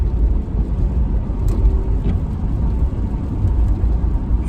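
A car's engine hums at low pitch while it drives, a steady, fairly loud rumble that swells a little as it takes gas, with no speech.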